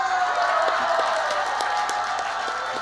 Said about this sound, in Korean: 다시 한번 목사님께 큰 박수 부탁드리겠습니다.